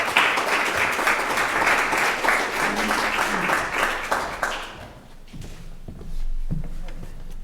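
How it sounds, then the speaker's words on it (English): A crowd at a town forum applauds loudly for about five seconds, then the clapping thins out and fades to a few scattered claps and faint room noise. "Let's give him a round of applause."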